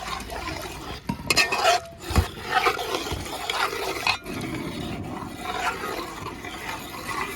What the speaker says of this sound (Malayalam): ഇത് അധികം തിളയ്ക്കാൻ പാടില്ല നല്ലപോലെ ഒന്ന് ഇളക്കി കൊടുക്കാം